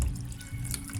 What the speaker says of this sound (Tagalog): dinalagay na po namin yung sabaw ng pinaglagayan ng ulo ng pusit at saka yung ulo ng tinapa